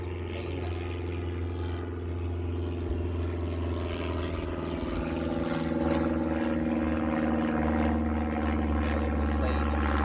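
A propeller airplane passes overhead during a quiet outdoor meditation, its steady droning hum holding for ten seconds and swelling slightly louder toward the end, with no talk over it.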